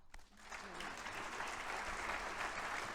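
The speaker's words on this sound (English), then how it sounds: "So I think you deserve a clap." An audience bursts into sustained applause, many hands clapping steadily and fairly quietly from a distance after a moment of murmuring.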